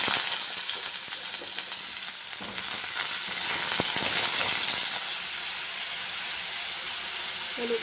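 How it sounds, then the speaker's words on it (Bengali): Vegetables tossed into hot oil already seasoned with black cumin (kalo jeera) after frying fish, giving a continuous close sizzle and hiss with occasional stirring clinks, no talking. "সবজিগুলো দিয়ে দিলাম।"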